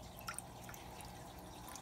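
Water drips slowly from a small tube into a bucket holding clown loaches being acclimated before release. The drips are faint and sparse, heard close against a steady background hiss.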